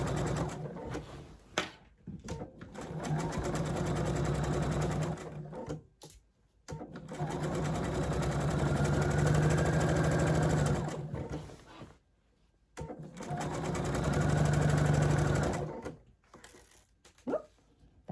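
A sewing machine stitches through a heavy quilt in three long whirring runs, broken by short pauses and quiet handling noises.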